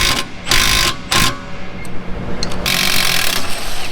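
Impact gun bursts loosening a suspension bolt on a Toyota RAV4 during a spring install, with several loud, rattling bursts separated by short pauses and close mechanical noise.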